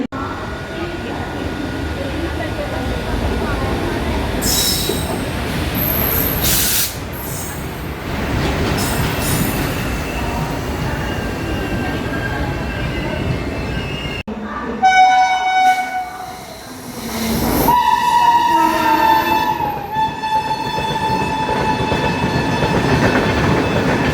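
A Jan Shatabdi passenger train pulls into platform 7 at a Mumbai station. A continuous rumble of rolling wagons is broken by sharp squeals, then long, loud horn blasts near the end, with faint station voices in the background.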